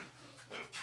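A puppy panting close by in short, quick breathy bursts, brief and soft.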